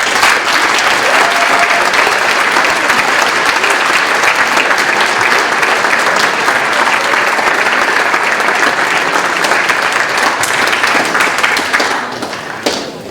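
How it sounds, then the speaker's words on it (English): Loud, sustained applause from a school audience at a Veterans Day ceremony honoring veterans, dense clapping holding steady for over ten seconds before trailing off. "Please, let's take a moment to thank them with our applause."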